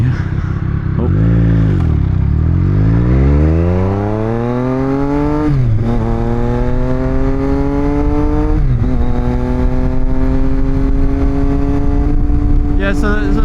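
A Subaru car accelerating through several gears, engine pitch climbing steadily with brief dips at each shift, loud and close, with a sharp clatter at the end.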